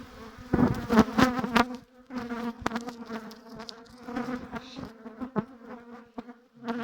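Honey bees buzz steadily and up close at a hive during an autumn inspection, a dense droning hum with a few sharper, louder passes near the start.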